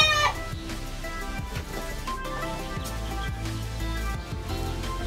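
A six-month-old Sweater Escolin gamefowl chick clucks repeatedly and fairly loudly, with short clucks in an uneven rhythm over steady low background noise.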